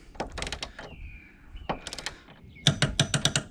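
A torque wrench tightens an upper torque strut mount bolt on a 2013-2018 Nissan Altima 2.5L QR25DE, giving close, quick bursts of ratcheting clicks separated by pauses and a brief squeak.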